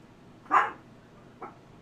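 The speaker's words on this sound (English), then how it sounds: "My little dog is upset by something he hears outside." A small dog gives two short indoor barks, a sharp louder yip followed by a fainter second one, reacting to something outside.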